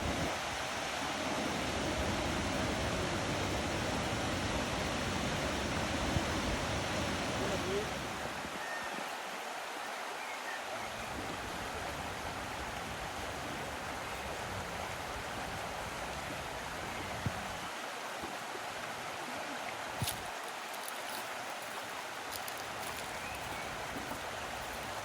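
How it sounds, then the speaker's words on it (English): Rushing water from a stream or waterfall in Tasmania makes a steady broadband roar, fuller and louder at first, then settling into a softer continuous wash. "Plenty of water coming down today."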